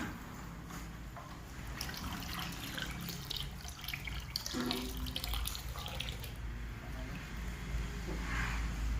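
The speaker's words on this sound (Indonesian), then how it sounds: "Kemudian setelah micin, air kelapa kita masukkan." Coconut water pours steadily into a liquid organic fertilizer mix made with biological bacteria, a continuous close splashing and trickling that runs the whole time with no talking.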